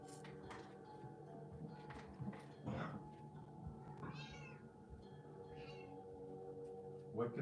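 A cat meows indoors, giving a few drawn-out, wavering meows spaced apart over a steady low background hum, with faint voices nearby.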